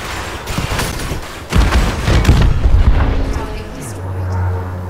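Rapid bursts from gimbal-mounted ship weapons firing at another ship in Elite Dangerous, dense booming fire that swells then fades into a low engine hum, with a voice talking over it.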